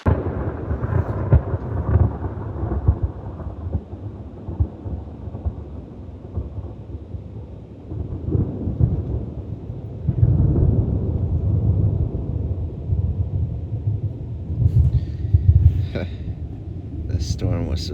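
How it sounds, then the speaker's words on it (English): Rain falls steadily during a thunderstorm with tornado warnings, heard from a campsite by a Jeep Gladiator off-road, while low thunder rumbles roll through and swell louder toward the end. "The storm was supposed to be over."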